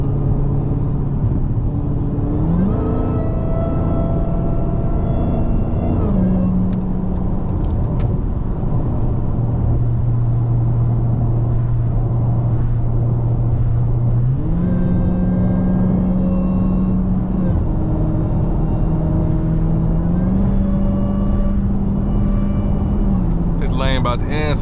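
A Dodge Hellcat Jailbreak accelerates hard in rush-hour traffic, its supercharged V8 intake roaring loud and close. The engine pitch climbs and drops as it shifts through gears, with a constant whine underneath.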